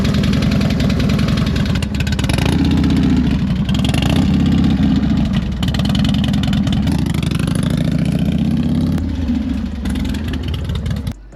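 A new Twin Cam engine in a Harley-Davidson Dyna, with a loose exhaust clamp, runs loud and close with a lumpy, throbbing idle and brief revs, the leaky exhaust adding a rough puffing edge.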